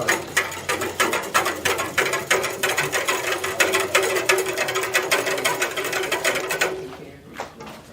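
A CB350 Italian ice machine runs with a steady rapid mechanical clatter and ratcheting whir, loud and close, continuing for about seven seconds before stopping near the end.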